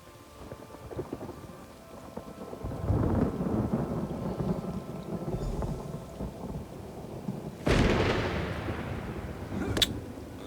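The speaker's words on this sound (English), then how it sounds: "Storm does not sound good." A thunderstorm in Elder Scrolls Online: rolling thunder rumbles build in from quiet, followed by a sharper, louder crack near the end, with rain hissing steadily beneath and no voices.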